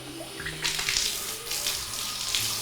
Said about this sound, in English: To start, I just wet the tub.